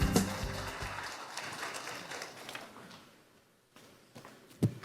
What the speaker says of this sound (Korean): 힘찬 박수로 청하겠습니다.